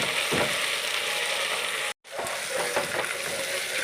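Ginger garlic paste for a mutton gravy fries and is stirred in a pan, giving a steady loud sizzle with scraping strokes and a brief gap in the middle.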